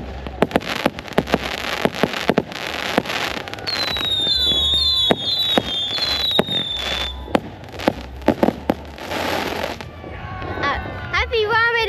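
Handheld fireworks and firecrackers set off and thrown on a trip in Malaysia, rapid sharp pops and cracks with fizzing crackle and shrill whistles, close and loud, as people talk in between.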